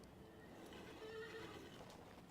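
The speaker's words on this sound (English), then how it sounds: "So if I was to summon my horse right here" A faint, brief horse whinny from King's Bounty 2, sitting low under a steady background hiss.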